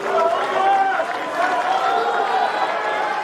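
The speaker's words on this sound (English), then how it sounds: "Crowd are getting a bit boisterous." A boisterous tennis crowd at the US Open during a 2025 second-round match, with a steady, loud wash of many overlapping voices chattering and calling out throughout.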